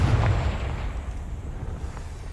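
Confringo fire spell going off in the Hogwarts Legacy video game on Xbox Series X: one short, heavy blast with a deep booming low end that fades into a rumbling tail, with no talk.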